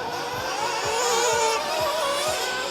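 An RC race car at the IFMAR Worlds races up the front straightaway, its high-pitched engine whining steadily and loudly throughout, with faint rhythmic thumps beneath.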